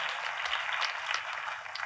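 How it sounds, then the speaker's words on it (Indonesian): A church congregation claps for Jesus, a dense, steady patter of many hands that sounds fairly distant and soft throughout. "kalau mau tepuk tangannya yang paling meriah buat Yesus Tuhan kita"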